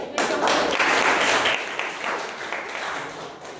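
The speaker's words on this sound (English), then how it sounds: "So can we have a big round of applause?" A big round of applause at a Toastmasters chapter meeting, a wash of many hands clapping that swells loudly at first and then slowly tapers off.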